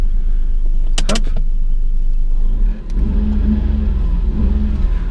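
A 1989 Honda Today XTI with a fuel-injected 550cc engine drives at night, its small motor droning loudly and steadily from inside the cabin. A brief tick-like click comes early, then the engine note rises as it pulls away.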